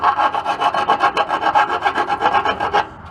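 A hand file rasps in quick, even back-and-forth strokes, about a dozen in a row, close up while filing out the caster-camber plate opening on a Mustang drift build, then stops.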